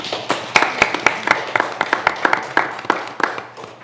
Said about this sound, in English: Can y'all give her a round of applause?